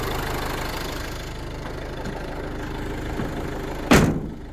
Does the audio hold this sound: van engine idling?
yes